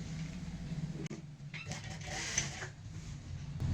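A sewing machine runs steadily, stitching lined fabric for a circle-cut palazzo, with a brief pause partway before the whirring resumes.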